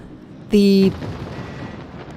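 Dive bombs striking in the World of Warships naval game, around the British aircraft carrier Implacable, land as one short, loud blast with a ringing tonal edge, followed by a low rumbling tail.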